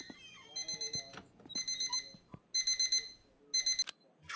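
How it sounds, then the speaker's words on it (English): A house alarm in the video game My Winter Car goes off: loud, close bursts of rapid electronic beeping in four separate groups, with quieter game sounds in the gaps. "my house alarm's going off"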